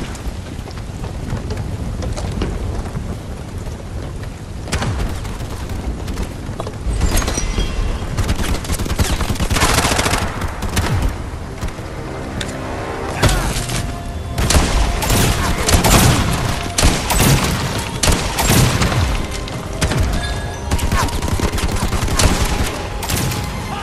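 Gunfire and explosions from the video game Bright Memory Infinite fill a rain-soaked battle, with dense bursts of shots and booms layered over steady rain-like noise that grows heavier partway through.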